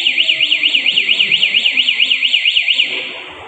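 A motorcycle's ECO 9 anti-theft locator alarm, set off by remote, sounds a long, piercing, rapidly warbling siren that repeats steadily for about three seconds before cutting out and fading.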